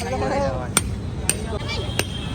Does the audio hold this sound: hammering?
yes